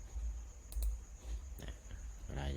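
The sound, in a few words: typing sound effect on keyboard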